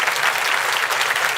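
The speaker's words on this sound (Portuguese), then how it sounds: "Quem pode aplaudir o Senhor por isso?" Church congregation applauding the Lord, a dense, loud wash of many hands clapping together without pause over the short span.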